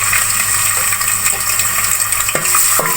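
Garlic paste frying for beef brain masala, a loud steady sizzle with stirring close by and a couple of brief clinks near the end, with no talking.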